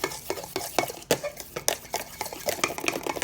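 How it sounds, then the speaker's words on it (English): A spoon stirs cake mixture in a bowl while baking a Buffalo Bills cake, making quick, close scraping and tapping strokes in an uneven rhythm. "Okay, so now we're gonna mix it in."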